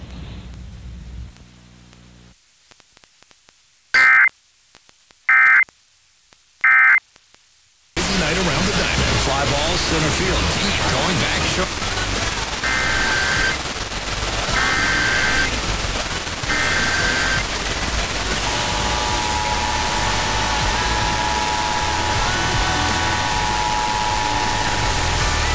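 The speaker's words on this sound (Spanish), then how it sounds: "conducting a required weekly or required monthly test of the emergency alert system." Emergency Alert System test: three loud, harsh data bursts stand out from near silence, then a long stretch of noisy broadcast audio with a few short repeated tones and a steady tone later, with speech mixed in.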